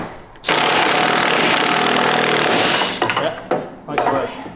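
A power tool rattles loudly as it winds up a nut during steering work on a Land Rover Defender 110, a sustained hammering burst of about two and a half seconds followed by shorter stuttering pulses.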